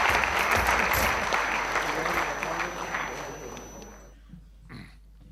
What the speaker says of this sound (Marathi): टाळ्या वाजून सर्वांचं आपण अभिनंदन करूया.